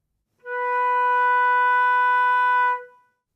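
A flute sounds a single sustained B natural in the first octave, steady and clear with a soft onset, held for over two seconds before tapering off.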